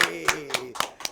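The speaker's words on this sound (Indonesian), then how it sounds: "Tepuk tangan untuk Bang" A small audience claps for Bang Opie in a few separate bursts of hand claps, with a voice talking and harmonic speech tones running underneath the whole time.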